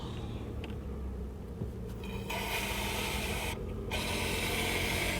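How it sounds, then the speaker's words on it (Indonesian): Aerosol AC cleaner foam sprayed through a hose into a car's air-conditioning vents, a steady hissing spray that runs several seconds, briefly pauses, then resumes, close and moderately quiet. "dan kita semprotkan ke kisi-kisi AC."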